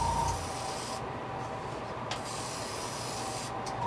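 Spray paint hissing steadily as a coat goes onto a custom-painted fishing lure blank, a close continuous spray with only brief dips.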